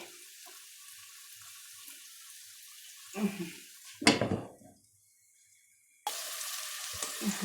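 Onions fry in a pan with a steady soft sizzle, broken midway by a louder clatter and a brief near-silent pause before the hiss returns.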